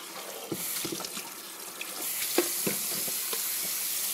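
A sink faucet runs in a steady stream of water while something is rinsed beneath it. Occasional soft splashes and knocks break through the constant hiss, with no talking.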